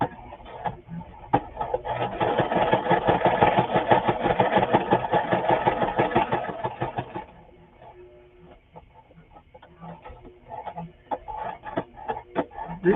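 A sewing machine whirs in a continuous run for several seconds while stitching a handmade journal, then drops to slower, intermittent stitching with light clicks.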